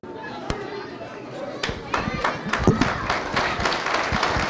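A crowd at an association evening applauds a plaque recipient, scattered claps building over chatter and children's voices in a lively hall, with people talking throughout.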